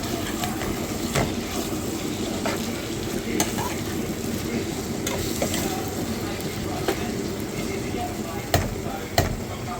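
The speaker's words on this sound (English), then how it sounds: "Okay, I'm gonna stir it." Cabbage and callaloo cook in a pot, giving a steady dense sizzle and bubbling, with a few clinks of a stirring spoon against the side.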